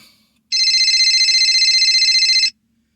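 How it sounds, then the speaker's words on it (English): A phone rings once in a single electronic trill lasting about two seconds, loud, close and clear against a near-silent room. "looks like I'm answering a phone call"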